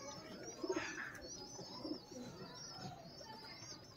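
Soft pigeon cooing, a few low throaty coos near the start and again midway, over faint background chirps and rustle.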